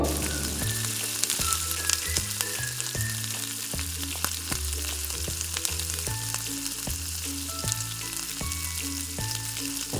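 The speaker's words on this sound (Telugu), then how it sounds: "ఆకుని మంచి ఆయిల్లో మంచి వేయించుకోవాలి" Chickpea (senaga) leaves frying in oil in a pan, a steady dense sizzle running throughout at close range, with music playing underneath and no talking.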